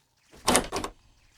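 A sound at a bedroom door in the night, in a horror story: two close, fairly loud thuds or a sliding rattle against the door, alone in a quiet room.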